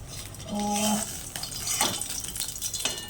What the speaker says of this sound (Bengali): এই যে এখানে মাছ ভাজা হচ্ছে